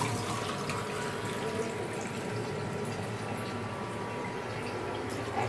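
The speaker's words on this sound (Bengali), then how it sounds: "আমি এখানে যেহেতু নিয়ে নিয়েছি আধা কেজি চাল, তো এখানে আমি 3 কাপ মতো পানি দিয়ে দিব।" Water poured steadily into a pot holding half a kilo of rice for a white pilaf, a continuous close rushing pour that stays even throughout with no voices.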